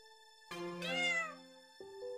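A cartoonish cat meows in a flash game set in a home, a clear drawn-out synthetic meow standing alone, followed by short electronic game chimes.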